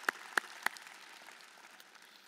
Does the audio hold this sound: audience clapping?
yes